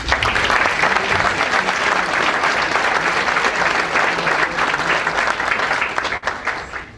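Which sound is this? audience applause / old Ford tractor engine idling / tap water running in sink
audience applause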